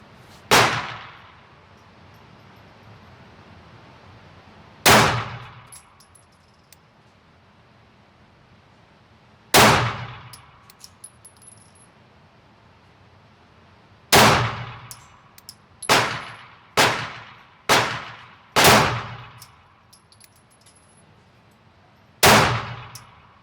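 A S&W M&P 2.0 Performance Center ported pistol fires about ten sharp, loud shots, at first spaced several seconds apart and later in a quicker cluster, each cracking and decaying quickly with no voices between.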